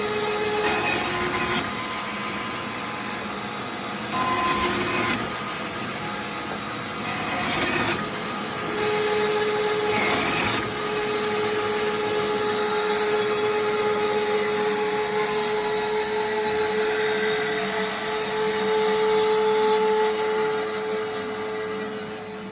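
A BIRO 3334 band saw runs with a steady mechanical whine and hum, the tone shifting slightly as it cuts through meat, with a few brief louder bumps along the way and no talking.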